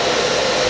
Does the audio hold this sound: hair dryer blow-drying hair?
yes